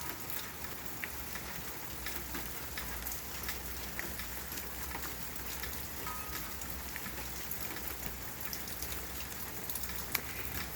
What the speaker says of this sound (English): And this one here is just a light rainstorm, so the drain's caught up.